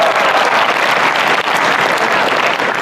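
Air Force Academy cadets applaud, a dense, loud, continuous wash of many hands clapping together, close and even throughout.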